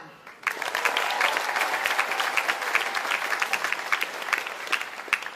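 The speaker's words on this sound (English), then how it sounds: "So a round of applause" Audience applause at a July 4 naturalization ceremony for new US citizens in Seattle, starting abruptly and holding as a dense, fairly close wash of claps with individual sharp hand strikes standing out.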